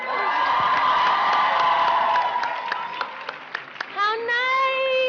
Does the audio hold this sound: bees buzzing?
no